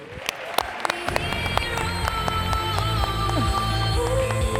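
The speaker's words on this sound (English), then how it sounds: "Give them a big round of applause." Audience applause follows a youth panel introduction at a marketing conference, a steady wash of clapping with a few sharp claps standing out near the start and holding at full strength throughout.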